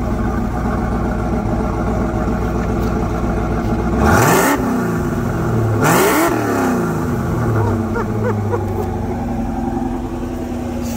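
A supercharged 1994 Ford Mustang GT idles with a loud, close rumble, then revs twice in sharp bursts, pitch climbing and falling each time before settling back to idle.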